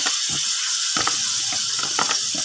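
Chicken liver and gizzard sauté in a hot pan with a loud, continuous sizzle and a few soft stirring scrapes.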